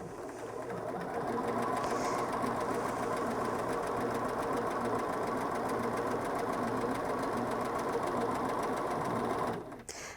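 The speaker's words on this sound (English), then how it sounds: "you're going to press the locking stitch button first and then start sewing" A Bernina S-325 sewing machine runs a locking stitch, a loud, steady, rapid mechanical hum and needle clatter running continuously for several seconds before stopping with a soft click.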